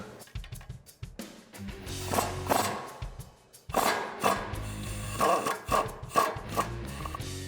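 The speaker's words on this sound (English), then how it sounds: "After the cotter pin is removed, we can remove the castle nut. I'm gonna use a 19mm swivel socket." A 19mm swivel socket on a ratchet loosens a castle nut on a Toyota Tacoma's front suspension, giving repeated clicking ratchet bursts and metallic clanks in uneven spurts, close and fairly loud.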